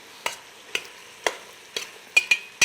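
Peppers fry in a lightly oiled pan for caldo de pollo, pushed around with about seven sharp, evenly spaced scraping strokes over a faint sizzle, close and clear, with no voices.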